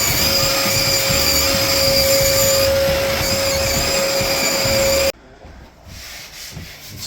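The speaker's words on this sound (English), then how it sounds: "all that dust gets sucked into the vacuum" A loud, steady vacuum motor whine with a constant tone runs for about five seconds while sucking up drywall sanding dust, then cuts off, leaving quieter rustling and handling noise.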